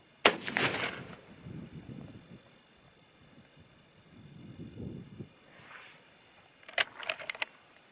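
A single sharp, loud .300 H&H Magnum rifle shot cracks outdoors at the start, followed by quieter handling and metallic clicks of the custom-built rifle being reloaded in wind, with another cluster of sharp clicks near the end.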